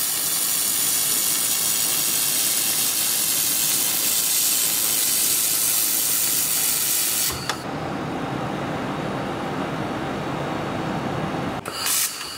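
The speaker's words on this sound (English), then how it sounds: "Stitch welding. First, you need to weld two points to fix the two mantles." A handheld fiber laser welding machine stitch-welds two pieces of metal with a loud, steady broadband hiss. The hiss drops to a quieter tone about halfway through, then a brief click cuts in near the end.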